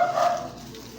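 A single short, faint dog bark or yip, heard from a distance and fading into quiet background within half a second.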